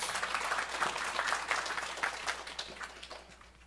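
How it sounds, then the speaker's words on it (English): An audience at a Sunday satsang at a gurukula breaks into a round of applause for a visitor, dense overlapping clapping that holds steady and then thins toward the end. "Give him a round of applause."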